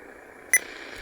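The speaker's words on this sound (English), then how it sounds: "It has a beep you can't turn off" A single short electronic button beep from a Sangean PR-D19 AM/FM stereo radio, crisp and close, sounding once over a faint radio hum.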